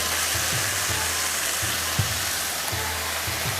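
Chicken teriyaki pieces sizzle skin side down in hot oil on a grill pan, a steady loud hiss with faint periodic low thumps beneath, no talking.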